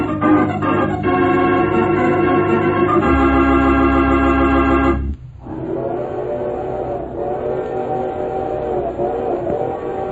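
A radio-drama sound effect of a train speeding through the night, a loud steady rumble with a sustained whistle-like tone for about five seconds before it shifts to a lower, rolling clatter.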